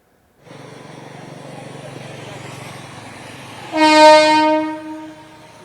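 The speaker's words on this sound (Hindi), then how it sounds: "कुर्ला की तरफ से पनवेल जाने वाली एक गाड़ी काफी धीमी धीमी यहाँ पर आती नजर आ रही है" A Mumbai local train running from Kurla toward Panvel rumbles steadily as it approaches slowly, then sounds a loud, sustained horn blast near the end.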